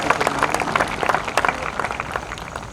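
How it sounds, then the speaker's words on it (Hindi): An audience at a university award ceremony breaks into sustained applause, dense rapid clapping from many hands filling the hall with no pause. "Everyone, please, huge round of applause for him."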